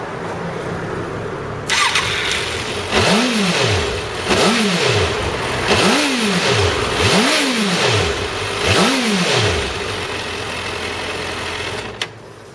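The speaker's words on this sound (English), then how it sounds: "start the engine, blip it a few times and then kill it." A motorcycle engine starts and is blipped five times in a steady rhythm during a coolant change and bleed, each rev rising and falling sharply, then it settles before cutting off near the end, loud and close with no talk.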